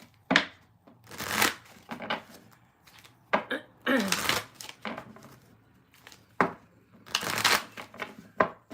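Tarot cards being shuffled by hand in a series of crisp riffling bursts with short pauses between them, close and fairly loud, with no one talking.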